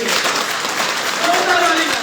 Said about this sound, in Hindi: एक बार जोरदार तालियां खुद के लिए बजाइए